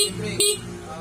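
A Honda Wave 100 motorcycle horn gives one short, close beep during testing, heard over a steady engine hum.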